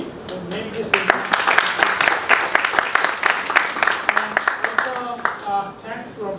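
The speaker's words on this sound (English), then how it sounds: "let us give a big applause for Professor Bhaumaji Rai and his team who made this event" An audience at a communication innovation and entrepreneurship workshop in Kolkata claps steadily and loudly, with crisp individual hand claps and voices talking over the applause as it fades toward the end.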